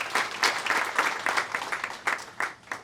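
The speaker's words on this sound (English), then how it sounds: "So let's give them a round of applause." An audience at a school band building dedication breaks into applause, a dense, fairly close burst of many hands clapping that swells and fades over a few seconds.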